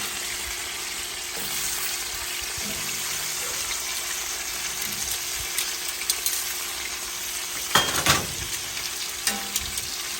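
Potatoes frying in a pan alongside pork chops, peppers and olives, giving a continuous close sizzle with scattered pops and a louder clatter near the end as food shifts in the pan, no talking.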